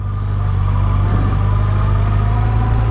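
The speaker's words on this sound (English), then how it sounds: "Sounds properly purposeful when you start her up. Big, deep thrum of an engine." A 2019 Yamaha FJR 1300 AE sports touring motorcycle engine running just after start-up, a loud, deep, steady thrum that holds even throughout.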